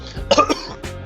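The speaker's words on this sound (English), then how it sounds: "Without breaking eye contact, I clear my throat" A short, close throat clearing: a couple of rough, gruff bursts in quick succession, fairly loud against a quiet background.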